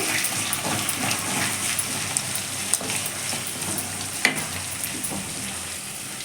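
Grated coconut and poha seasoning frying in a pan, a loud continuous sizzle with occasional stirring clicks and scrapes, no talk.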